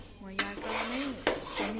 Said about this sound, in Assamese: কাজু দি আকৌ মই লৰাইছোঁ